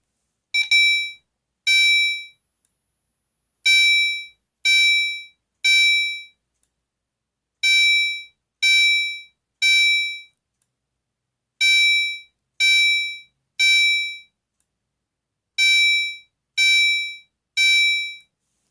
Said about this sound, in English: And now for chime. Code 3, strobe on, high volume.